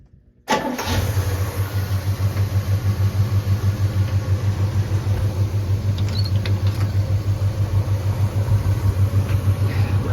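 An Oldsmobile 455 V8 cranks and fires without the throttle pedal being touched, then settles straight into a steady, loud, rhythmic idle that continues alone for the rest of the clip.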